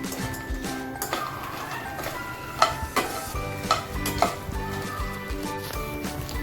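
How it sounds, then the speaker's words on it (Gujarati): Makhana (fox nuts) roast in a pan on the stove with a soft sizzle. A utensil stirs them in repeated scraping strokes, with occasional sharper clinks against the pan, close up and without talking. "તો એ મખાના રોસ્ટ કરું છું।"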